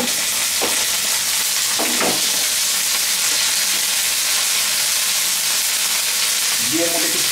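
Onions and ginger-garlic paste fry in a pan for Bangladeshi pabda fish curry. A dense, close sizzle continues throughout, with scattered scrapes and clinks from stirring.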